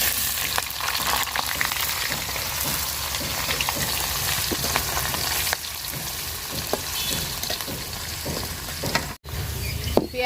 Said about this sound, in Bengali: পেঁয়াজটা আমি লাল লাল করে ভাজা নিচ্ছি